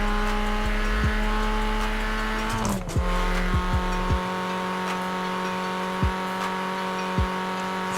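A Vauxhall Corsa VXR four-cylinder engine in Forza Horizon 4 revving hard with a steady tonal drone, then a sharp break in the middle followed by repeated rev surges and gear-change dips, with a brief tire squeal.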